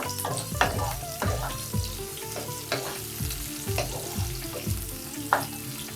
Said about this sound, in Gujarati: પછી તેમાં આપણે ડુંગળી ઉમેરશું અને તેને થવા દઈશું